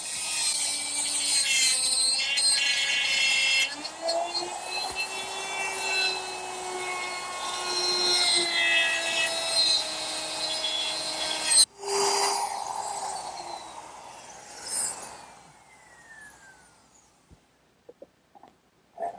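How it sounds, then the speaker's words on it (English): A router fitted with a dovetail bit and guide collar whines at high speed while cutting wood dovetails along a plastic guide, loud and close for about twelve seconds, then winds down and stops with a few light knocks. "using my router with a dovetail bit and a little collar, I'll get perfect dovetails every time"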